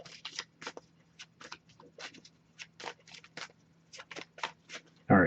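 Tarot cards are shuffled in quick, crisp riffling bursts, a light papery flutter repeated in irregular clusters against a quiet background, ending with a louder knock or handling sound.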